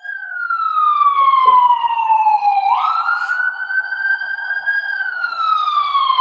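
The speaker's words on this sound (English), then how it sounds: "Sounds like I got an ambulance now." An ambulance siren wails loud and close, one long falling tone that jumps back up to a higher steady pitch and then slowly descends again, heard alone while the vehicle crosses a bridge near a catfishing spot.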